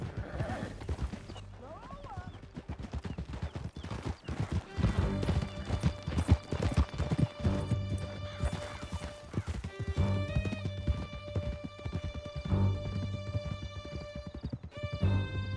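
Horse hooves clip-clopping at a gallop in the Red Dead Redemption 2 video game, a steady loud rhythm with whinnies and neighs, under a game soundtrack with sustained music tones and occasional spoken dialogue.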